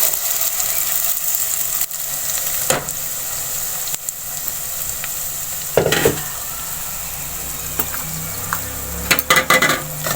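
Ground purée of six large tomatoes goes into a hot pan for green garlic and potato curry, a steady close sizzle with bursts of spitting and stirring clatter, no voices.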